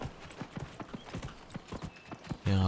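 Horse hooves in Dragon Age Inquisition clip-clop at a steady trot, a brisk run of close thuds on the ground, cut off at the end by a sudden loud tonal game sound.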